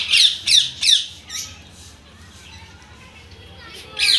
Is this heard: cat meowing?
no